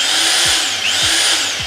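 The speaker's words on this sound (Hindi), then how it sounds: "तो इसमें क्या हैमरिंग भी होगी और हमारा ड्रिल भी चलेगा।" INGCO RH10508 rotary hammer running in hammer-drill mode: a loud, close, continuous high-pitched motor whine with rapid hammering pulses and a rising-and-falling pitch, with no talking.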